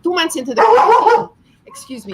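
A dog barks indoors at home in a house full of dogs, the short yips mixed in close under a person talking.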